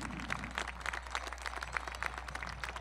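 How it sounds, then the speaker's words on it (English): Audience applause at a Plymouth Whitemarsh High School Class of 2016 commencement ceremony: a steady, fairly soft wash of many hands clapping at once, with no voices over it. "let's give a big round of applause"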